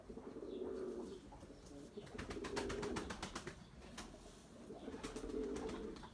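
Male pigeons coo in deep, rolling bursts, three distinct calls with pauses between, fairly close, over a light background of birdsong and chirps.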